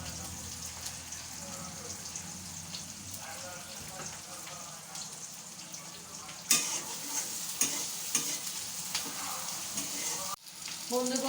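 Onion and chopped green chilli frying in a pan, a soft continuous sizzle with irregular stirring scrapes and taps that grow louder partway through.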